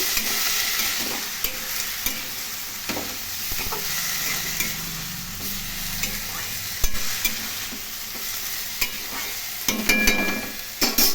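Beans, eggplant and onion leaves fry and sizzle in a pan for a bitter gourd curry, with a steady hiss broken by a few sharp stirring scrapes and clacks of a utensil.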